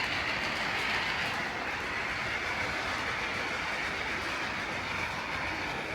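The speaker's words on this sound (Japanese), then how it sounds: "トーマスと仲間の機関車たちの運転状況ですが" Thomas and Friends model trains run on a diorama track, giving a steady, continuous rolling rumble and hiss with faint clatter at moderate distance and no voices.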